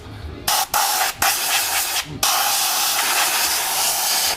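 Compressed air blasting dirt out of the engine of a Yamaha FZR600 motorcycle that sat unused for over 15 years, a loud close hiss in several short bursts followed by one long sustained blast.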